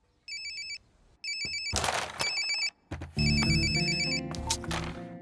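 A telephone rings in repeated electronic bursts, loud and close, with bangs and clatter of other noise breaking in between and after the rings.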